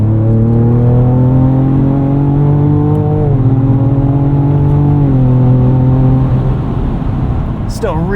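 Ford Raptor pickup with a 10-speed automatic accelerating hard, engine note climbing steadily and dropping at each gear shift, loud and close from inside the cab with a steady road roar underneath.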